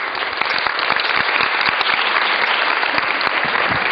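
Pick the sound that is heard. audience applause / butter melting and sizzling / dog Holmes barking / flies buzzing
audience applause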